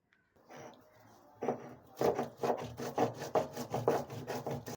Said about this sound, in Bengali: তারপরে মশলাটা বেটে নেব।